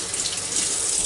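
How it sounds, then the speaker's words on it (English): Sweet potatoes are washed under a steady, close stream of running tap water that splashes continuously into a sink, with no talk. "I just need to wash the potatoes right quick"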